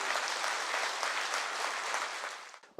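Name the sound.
audience applause of encouragement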